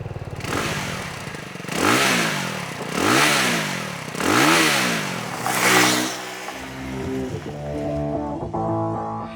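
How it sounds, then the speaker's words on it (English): A 2022 Benelli TRK 251's 250cc single-cylinder motorcycle engine revs repeatedly in four rising and falling surges, throaty and close, then settles into a steady idle. "this engine sounds just like any other run-of-the-mill single-cylinder motor"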